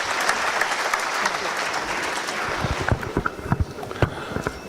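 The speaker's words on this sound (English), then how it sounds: "Can I request everyone to give a big round of applause to sir?" A conference hall audience at a national tax conference applauding a keynote speaker, with broad steady clapping that thins into a few louder individual claps near the end.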